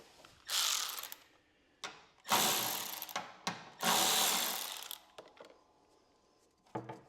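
A ratchet with a 1/2 inch socket working a nut on a vehicle starter solenoid, several bursts of rapid clicking separated by pauses and a few sharp metallic knocks, close and fairly quiet.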